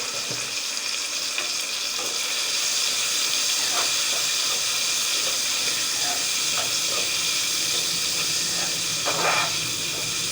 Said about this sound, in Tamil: இப்போ மஞ்சள் தூள் சேர்த்துட்டு நல்லா வதக்கிக்கலாம்.